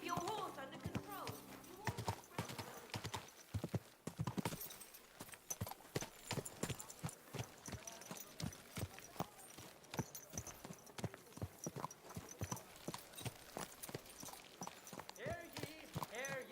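Steady horse hoof clip-clops in a quick, regular rhythm from Kingdom Come: Deliverance 2, with music and occasional speech playing over them.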